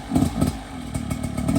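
A stretched dirt bike engine revs in the rain, its rough, pulsing motor note rising and falling in quick surges, loud and close for a brief moment with no talk.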